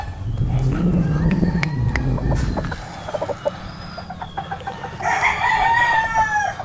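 A young golden stag rooster with yellow legs lets out one loud, close crow near the end, after several seconds of low clucking and yard noise.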